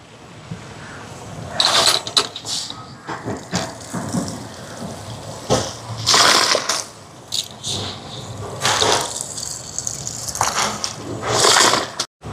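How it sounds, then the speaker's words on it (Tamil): Washed rice is tipped into a large cooking pot for a charity meal in Sri Lanka, giving repeated bursts of rattling, hissing grains and scraping between quieter gaps, close by and without talk. "அரிசியை போடுவோம்"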